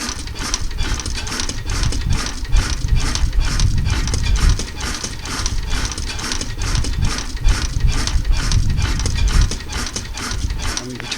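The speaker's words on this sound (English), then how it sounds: "engine off now, because Jamie is now going to show us exactly how this beautiful piece of machinery works" A 1914 Blackstone 3hp oil engine runs at a steady slow beat, a loud, close, rhythmic chuffing knock repeating about twice a second with no voices.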